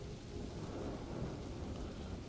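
In Planet Coaster 2, a steady wash of rain mixes with a low, rumbling roll of thunder, dense and continuous throughout without any speech.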